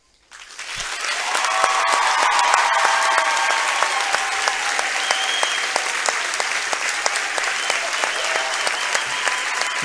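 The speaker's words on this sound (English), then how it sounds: "Nice standing ovation by the whole crowd, both sides, Gardner Edgerton and Lawrence." A crowd in a gym at a Lawrence versus Gardner Edgerton high school wrestling meet bursts into sustained applause, dense clapping that starts suddenly and holds steady for a standing ovation.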